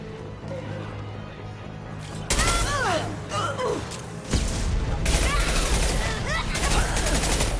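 Gunfire during a firefight in the game Mass Effect 2, with loud bursts of shots starting suddenly and then renewing, and game voices and effects mixed in.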